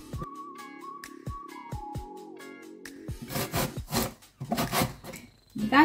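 Zucchini is rubbed against a grater in a kitchen, making rough, rasping strokes in quick uneven bursts that grow louder toward the end, after a quieter stretch of light tapping and handling.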